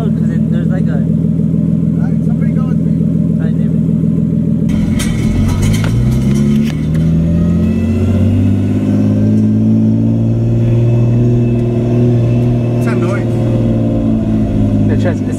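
A Nissan R32 Skyline with a manual swap and straight-cut first gear, driving with a steady engine drone and a rising gear whine, heard from inside the car under people talking.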